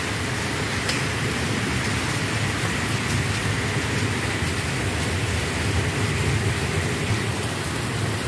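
Steady rain falls outdoors in a dense, even hiss that stays loud and unbroken throughout, with no talking.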